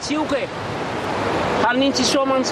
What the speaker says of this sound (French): Mais le vent est fort et bien établi.